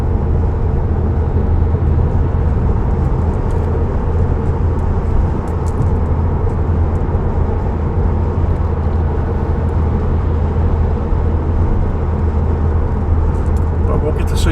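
Steady interior road noise from a car driving along a road, a constant low rumble and tyre hum with no breaks, heard from inside the cabin.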